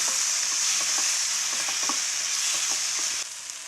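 Peeled garlic cloves fry with a loud, constant hiss in a pan for urad dal chutney, while soft spoon taps and scrapes sound under the sizzle and the level dips slightly near the end.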